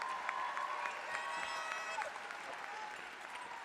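A graduation audience at McKinney Boyd High School claps for the cheerleaders, a faint, steady wash of applause from a large crowd that slowly tapers.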